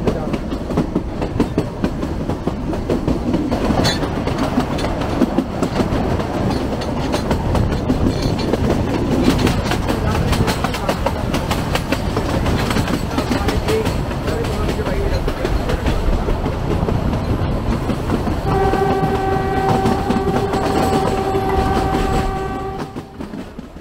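A Kangra Valley Railway train runs on the Pathankot to Baijnath Paprola line near a hill halt. The steady, loud rumble and clatter of the wheels fills the clip, and a sustained horn blows near the end.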